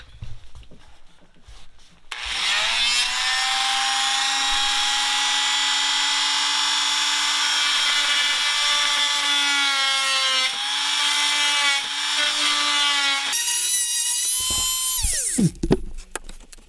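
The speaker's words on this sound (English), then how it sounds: "So basically I'm just cutting out a notch about 6 inches down and between both studs." A power tool cuts a notch between the wall studs of a 5x8 cargo trailer during a camper conversion, with a loud, continuous whining buzz that runs steadily for about eleven seconds, shifts pitch near the end, then stops abruptly.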